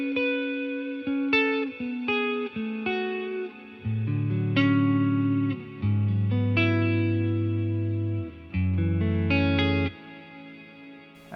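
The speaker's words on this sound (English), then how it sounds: "Then we've got the BFR, which stands for big" A Walrus Audio Mako R1 reverb pedal in BFR mode processes electric guitar notes and chords, each phrase swelling into a thick, lush reverb tail that lingers between strums, with no voices.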